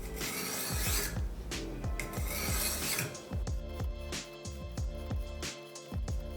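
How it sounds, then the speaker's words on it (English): A knife blade rasps in a steady run of strokes along the whetstone of an Iki Ruixin Pro guided sharpener. The close, rhythmic passes come quickly one after another, with no talking. "we're gonna do the same thing on the other side, 15 passes"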